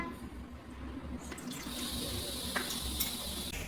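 Water is poured into a swimming pool in a children's play setting, a steady splashing rush that swells in after a quiet start and continues close up to the end.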